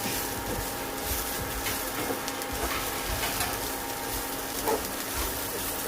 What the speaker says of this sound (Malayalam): ഇതിലേക്ക് സവാള ചേർക്കാം. ഇതെല്ലാം കൂടെ ഒന്ന് മിക്സ് ചെയ്യണം.